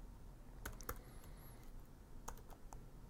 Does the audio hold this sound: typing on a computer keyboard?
yes